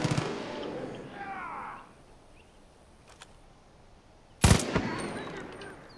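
Rapid, unsuppressed gunfire in the Far Cry 5 video game comes as a loud burst at the start and another sharper, closer burst later, with quieter ambience and faint game sounds between.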